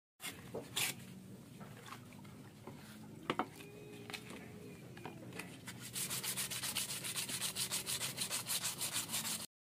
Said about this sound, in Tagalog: bago pala natin siya pinturan, lilihain muna natin siya